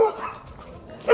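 A dog being taken out on its lead, giving a couple of short barks near the mic, one at the start and a louder one at the end, with quiet movement between.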